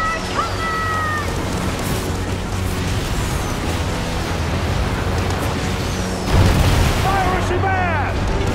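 A pirate sloop of war fires rockets at a rival ship in Skull & Bones, with a dense, continuous rumble of booms and whooshing streaks that swells into a heavier burst near the end, mixed with shouting voices.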